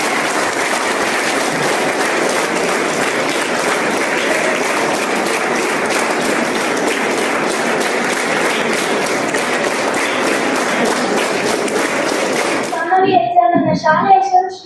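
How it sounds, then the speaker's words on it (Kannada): Audience at a school event honoring a student's international karate gold medal claps loudly and steadily for about twelve seconds, then the applause stops abruptly and a voice starts talking. "ಗಟ್ಟಿ ಚಪ್ಪಾಳೆ ತಟ್ಟಬೇಕು."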